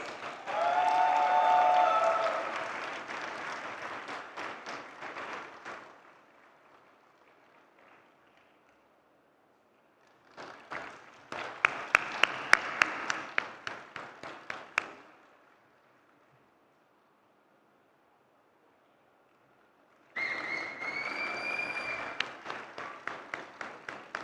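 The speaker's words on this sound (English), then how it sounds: "A huge round of applause, please." Graduation ceremony audience applauds in a large hall, a sustained round of clapping that fades out, then returns in a second burst with louder individual claps, followed by a third round after a pause.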